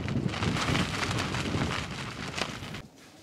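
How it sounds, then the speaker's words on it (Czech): Wind blusters steadily across a winter campsite in the Oderské vrchy hills, a rough gusting roar close to the microphone that fades out at the end. "docela fičí"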